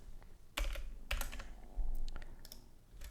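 Fingers type on a computer keyboard while entering text into a database document footer. The keystrokes come in short, quiet bursts of clicks separated by pauses, heard up close with no speech.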